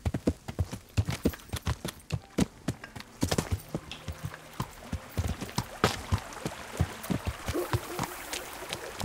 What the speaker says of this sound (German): wir reiten durch den Grünwald